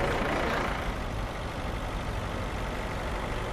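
A tractor engine, the first Ukrainian tractor built at the Kharkiv Tractor Plant, rumbles in a steady low drone at moderate distance, alone without talk.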